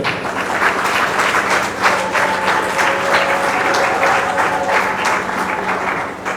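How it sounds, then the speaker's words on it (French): Audience at an award ceremony clapping in a steady, dense round of applause for Massamba, moderately loud and continuous for the whole stretch. "nous allons applaudir pour Massamba"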